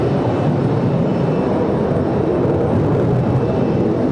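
Loud, sustained roar of an F-15 fighter jet banking overhead, a dense broadband rush that stays steady throughout with no voices.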